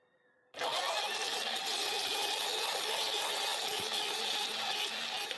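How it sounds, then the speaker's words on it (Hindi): Mixer grinder whirring loudly and steadily as it blends a mango dessert with a little water, starting abruptly after a short quiet moment and running continuously. "ये हम अपने मिक्सर में डाल देते हैं।"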